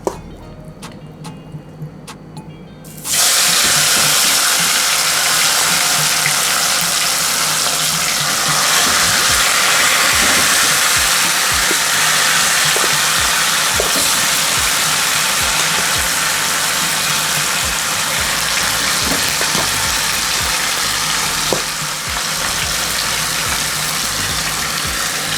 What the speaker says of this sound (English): my pot is well hot and I'm going to go in with my meat